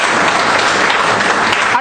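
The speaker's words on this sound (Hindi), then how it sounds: "एक बार जोरदार ताली बजा दीजिए" An audience at a network-marketing event breaks into loud, dense applause, a steady wash of clapping close by that fades at the end.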